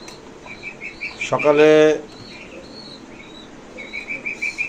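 Pigeons in a pigeon house, with light chirps and a brief flurry of wing flaps, followed by soft cooing calls; a person speaks briefly.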